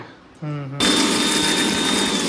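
A mixer grinder grinds a small amount of Kashmiri chilli and biryani masala spices, starting abruptly after a short tonal hum into a loud, steady, close whirring grind that continues to the end.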